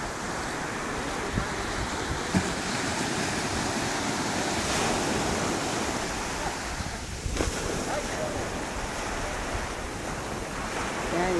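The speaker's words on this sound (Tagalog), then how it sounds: "Ang lalaki ng alon, no?" Large ocean waves roll and break continuously on a beach shore, a broad steady roar with gusting wind noise against the microphone.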